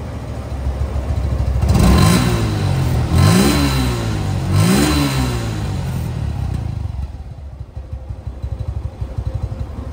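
A 2023/24 Suzuki Gixer FI ABS motorcycle in showroom condition, just started, revs hard close by in three rising bursts, then drops to a steady lower idle.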